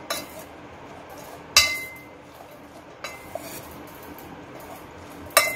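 Okra being coated with gram flour in a dish, heard as a few sharp clinks of a spoon against the bowl between quieter stretches of soft stirring, close and without talk.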